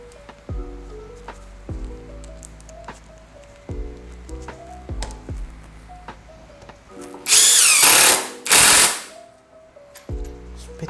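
A Nagawa NID213K 2.0 impact driver running at its second speed setting, its motor whine rising in short repeated runs with pitch sweeps, then two loud bursts of harsh rapid impact hammering before the motor winds down again.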